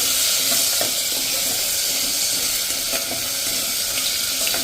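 Green gram (moong) with chopped green chilli and grated ginger cooking in a pan on a medium flame, giving a steady, close hiss and sizzle that runs unbroken with faint stirring clicks and no talk.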